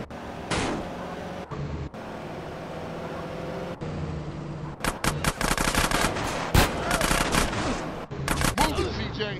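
Rapid automatic gunfire from a drive-by shooting in GTA San Andreas, loud bursts of crackling shots broken by brief gaps, with car and engine sounds beneath the shooting.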